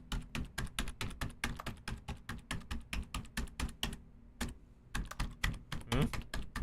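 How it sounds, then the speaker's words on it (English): Rapid, continuous clatter of computer keys being pressed one after another, crisp close taps in a fast irregular rhythm with a short pause near the end. "Gue bakal pencet semua tombol di keyboard kecuali Z."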